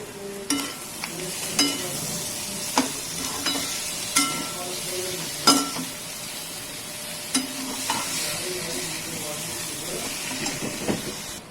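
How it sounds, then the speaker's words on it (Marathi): Boiled potato pieces for a dosa filling are tipped into a sizzling pan and stirred, a steady hiss under repeated scraping and knocking of a spoon against metal. "शिजवून घेतलेले फोडी केलेले बटाटे आता आपण याच्यात टाकून घेऊया"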